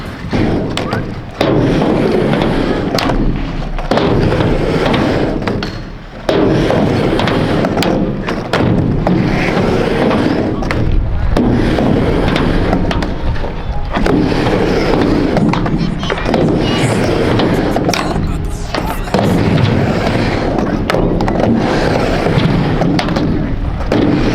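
Skateboard tricks on a run of kickflips: repeated loud board pops, slaps and wheel landings spaced a few seconds apart over constant rolling noise, close and strong, with voices now and then.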